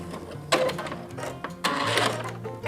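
A sewing machine back-stitches a seam on a fabric face mask, running in two quick mechanical bursts of stitching with a short pause between them, close and clear.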